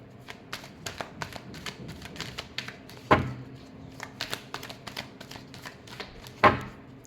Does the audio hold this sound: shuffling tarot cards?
yes